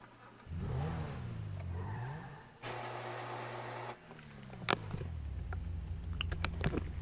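Lamborghini supercar in GTA 5 Online pulling away, with a loud engine drone that climbs and dips in pitch as it revs, a steady held note midway, then a deeper rumble and a few sharp clicks near the end.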